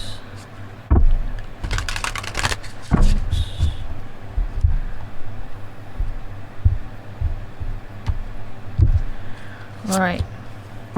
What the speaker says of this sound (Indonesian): Jadi kita langsung shuffle kartunya buat kamu Taurus di bulan Mei